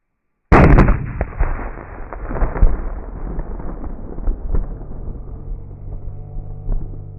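Firecrackers burst in Vadakampatti, starting with a sudden loud bang and continuing as a dense, crackling string of pops that gradually thins out, with no voices.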